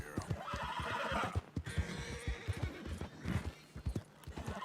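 A horse in the video game Red Dead Redemption 2, scared by a snake, lets out a loud whinny, followed by a run of clip-clopping hoofbeats close by.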